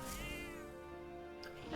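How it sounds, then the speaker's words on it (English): A cat meows in the video game Metaphor ReFantazio, a short drawn-out call carried over steady game background sound, with a brighter little cry near the end. "That's a cat."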